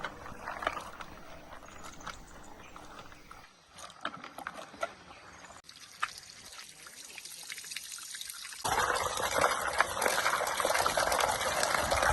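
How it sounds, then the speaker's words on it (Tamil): Freshly harvested peanuts are swished in water to wash off the soil. Sloshing and trickling sounds come at first, then a steadier, louder gush of water toward the end. "நல்லா தண்ணியில் போட்டு அலசி அந்த மண்ணெல்லாம் எடுத்துடலாம்."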